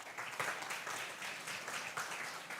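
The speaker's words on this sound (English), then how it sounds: "So clap for yourself first" An audience at a live IIT Bhubaneswar Research and Entrepreneurship Park event claps for itself, a steady, soft wash of applause heard from some distance with no voices.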